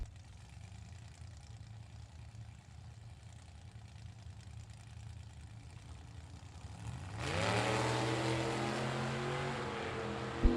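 A blown, supercharged 383 engine in a Willys Coupe drag car at a vintage drag race idles low, then roars up loudly partway through and holds a heavy, rising drone.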